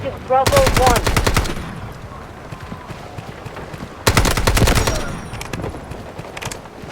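Two loud bursts of rapid automatic AKM rifle fire in the Delta Force Mobile video game, each lasting about a second, separated by quieter in-game ambience.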